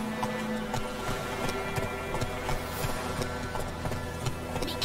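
Geralt's horse Roach trotting in The Witcher 3, a steady clip-clop of hooves at an even rhythm over a low ambient game drone.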